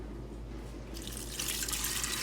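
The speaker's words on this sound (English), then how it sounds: "this is 4 cups of water." Water pours into an Instant Pot for cooking Great Northern beans, a soft trickle that swells into a brighter, fuller splash partway through.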